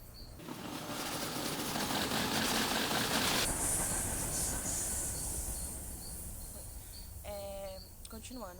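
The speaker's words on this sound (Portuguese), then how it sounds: "E o trem vai passar agora, eu vou esperar o trem passar." A train passes close by, a loud, sustained broadband rumble and rush that rises and holds for several seconds, then slowly fades, with a faint high squeal and a few brief sounds near the end.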